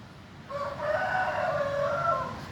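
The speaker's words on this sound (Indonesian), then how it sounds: "Oh, ada ayam ya di dalam itu." A rooster crows once, moderately loud and slightly distant, from inside an abandoned house in Palembang, its call drawn out over a couple of seconds.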